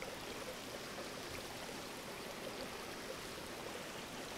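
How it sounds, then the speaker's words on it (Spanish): A clear mountain stream flows beside a trail in the Andes near the Choquequirao ruins in Cusco, about 3,500 metres up: a steady, broad rushing of water, close and even throughout, with no voices over it. "nuevamente nos encontramos con otro riachuelo"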